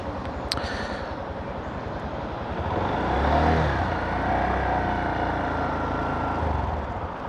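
A Honda Monkey motorcycle engine hums steadily while riding, small and buzzy like a sewing machine, heard faintly beneath loud wind rush with a slight swell of revs midway.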